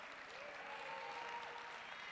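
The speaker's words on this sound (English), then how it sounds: "Give yourself a round of applause." An audience at the AfricArena Grand Summit 2023 gives a dense, sustained round of applause that fills the whole moment.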